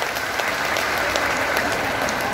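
A gathered audience at a religious event claps in a steady, dense wash of applause that fills the space.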